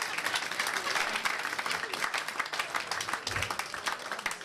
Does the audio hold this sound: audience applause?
yes